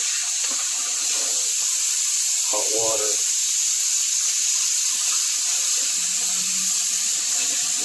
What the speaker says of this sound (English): you rinse it, make sure it's really properly cleaned. Okay, you can even put hot water